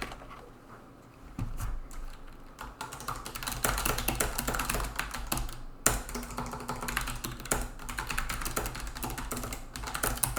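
Typing on a mechanical ergonomic keyboard: a steady, close stream of clicky keystrokes after a brief quiet start, with dense rapid taps continuing to the end.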